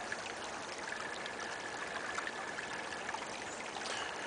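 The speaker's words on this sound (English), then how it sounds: "You can hear the water." A small stream flows steadily through snowy woods, its continuous, soft watery trickle and babble filling the quiet scene at an even level throughout, with no voices.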